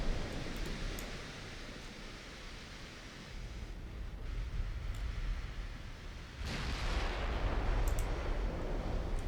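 Naval guns firing in a dreadnought-era sea battle game: a dense, rumbling roar of heavy cannon fire swells over several seconds and surges louder toward the end, with no talking.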